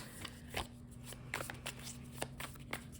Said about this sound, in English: we are just shuffling a million times